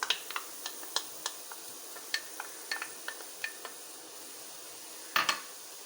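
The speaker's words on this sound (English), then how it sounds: "I'll have to saute it till it is brown and transparent." Onions sauté in a pan for vegetable pulao, a spatula tapping and scraping the metal in irregular light clinks over a faint, low sizzle, with a louder clatter near the end.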